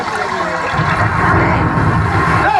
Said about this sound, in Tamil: அடி நீர் ஓடையில தண்ணி அப்படியே போட்டு போட்டு சல சல சலன்னு அந்த சத்தம்